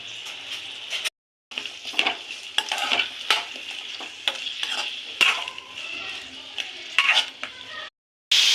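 Prawn masala ingredients being stirred and mixed in a frying pan, with a spoon scraping repeatedly against the pan over a steady sizzle, broken by two brief silent gaps.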